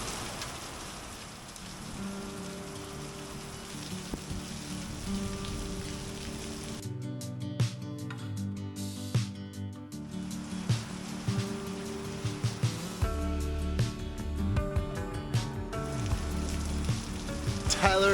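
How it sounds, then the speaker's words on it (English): Steady rain from a daytime thunderstorm patters on a surface, with sizzling hiss throughout; a low rumble and a brief denser burst come through midway. "This is officially Ollie's first daytime thunderstorm."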